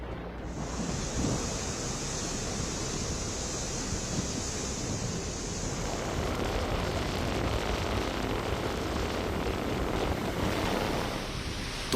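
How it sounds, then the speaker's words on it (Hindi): Cyclone Biparjoy lashes the Indian coast with strong winds, heavy rain and surging sea waves, heard as a continuous loud roar of wind and rain with a hissing layer early on and no voices. "तेज हवाएं और मूसलाधार बारिश के साथ साथ समंदर की लहरें उफान मारने लगी"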